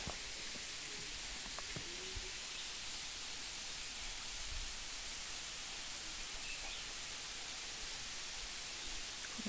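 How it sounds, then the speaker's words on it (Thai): Pha Rom Yen waterfall in Ban Rai, Thailand, spills down a high cliff with a faint, steady rushing hiss that never changes. It sounds distant and continuous, with no voices. "ให้ชมวิวที่น้ำตกผาล่มเย็นครับ"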